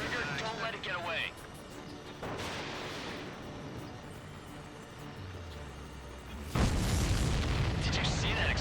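Explosion in the combat flight game Ace Combat 7 during mission 17, Homeward, a sudden loud burst late in the clip over continuous jet engine roar and radio voices talking throughout.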